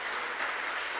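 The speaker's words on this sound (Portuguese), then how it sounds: "Vocês podem aplaudir Ele nessa noite?" A church congregation applauds during a worship service, a faint, continuous patter of many hands at a distance, brief and steady without a break.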